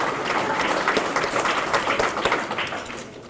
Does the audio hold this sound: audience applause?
yes